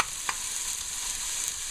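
Fish fries in a pan for a tomato fish stew, giving a close, steady sizzle with a few light clicks from a utensil stirring.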